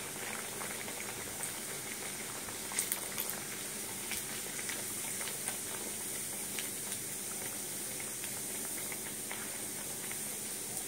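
Mung dal-filled kachoris fry in deep hot oil, giving a steady bubbling sizzle and hiss with light crackling pops, heard close and alone at low volume.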